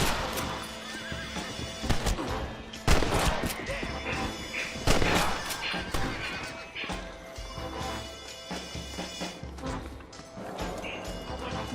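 Horse in the video game Red Dead Redemption whinnying and neighing amid clip-clopping hooves and scuffling thuds, loud and close, with game sounds layered throughout.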